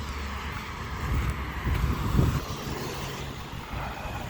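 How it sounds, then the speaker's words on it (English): Broad low rumble of an airplane passing overhead on Rue Jean-Talon Ouest in Montreal, swelling to a peak midway and fading slightly, with wind buffeting the microphone throughout. "There's another plane."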